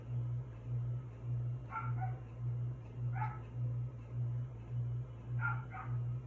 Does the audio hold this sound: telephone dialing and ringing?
no